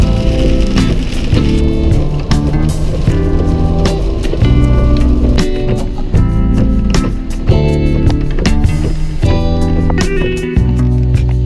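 Rain falls steadily on an outdoor spot while bass fishing at Folsom, a dense close patter of drops striking surfaces, with scattered sharper taps and knocks throughout and no talking.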